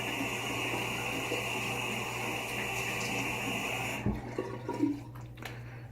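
Tap water running steadily to rinse a straight razor during a shave, a continuous hiss that cuts off abruptly, followed by a few soft knocks and splashes as the blade is handled.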